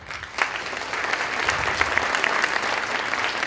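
Conference audience at TAM 2017 clapping in reply to a question, a full room of sustained, steady applause with crisp individual claps standing out in the mix.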